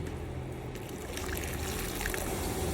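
Water pours into a cooking pot holding ginger and softened tomatoes, a steady close trickle and wash that lasts the whole short stretch with no voices over it.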